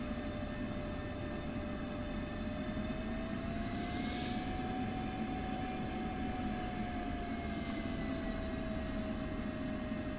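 An F-16C jet in DCS taxis slowly, its engine a faint steady whine with a slowly rising and falling tone over a low rumble, heard alone with no talking.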